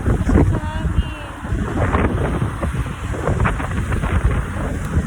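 Strong gusts buffeting the microphone outdoors on a cold day in Germany, loud low rumbling roar with fluctuating intensity, with a voice speaking faintly underneath.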